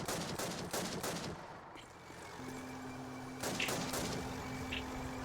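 Sustained Call of Duty gunfire with bursts of shots, fairly distant and mixed with a steady battlefield din and a low hum.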